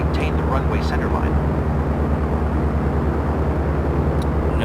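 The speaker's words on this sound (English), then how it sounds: "Now pitch to climb at 75 knots, which is the best climb speed in the Cherokee" Piper Cherokee single-engine propeller plane climbing at best climb speed in a flight-training video game, a loud constant droning engine hum throughout, with a voice speaking briefly over it.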